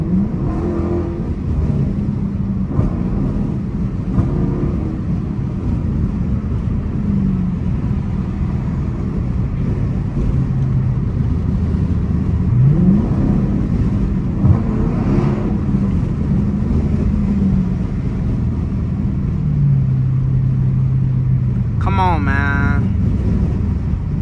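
Dodge Challenger RT cruising a highway in rush hour traffic, a steady close engine and road drone with occasional swells, with someone talking over it at times.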